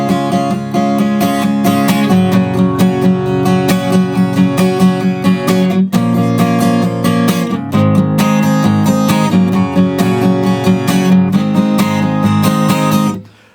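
An acoustic guitar strums the chords of a verse, with steady rhythmic strokes and ringing chords. The playing is loud and close, and no one speaks.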